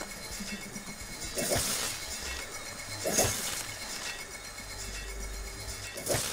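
Glass shatters three times in the Payday 2 video game, each a sharp, noisy crash spaced a second or more apart over a steady low background hum.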